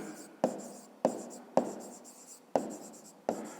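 A pen writes by hand on paper, five or so sharp taps, each followed by a short scratching stroke, close and evenly spaced.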